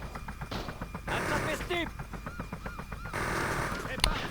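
Pump-action shotgun blasts and explosive action in the open-world video game Just Cause, a dense run of bursts and mechanical clatter with a louder crack near the end, while someone talks in French over it.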